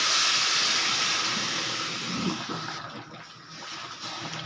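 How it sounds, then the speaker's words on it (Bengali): Hot water pours into a pan of papaya, potato and prawn curry, a loud sizzling hiss and rush that eases and sputters as it settles, heard alone without talk. "এবারে আমি দিয়ে দেব গরম জল।"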